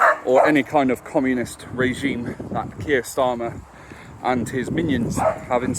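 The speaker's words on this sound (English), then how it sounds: "Excuse the dog barking." A dog barks repeatedly in the background of an indoor setting, its yips and woofs recurring under continuous foreground talk by a man.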